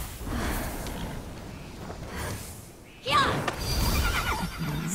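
A horse in the video game Immortals Fenyx Rising lets out a loud, shrill whinny midway, with hoof clatter and movement noise around it and a voice talking over parts of it.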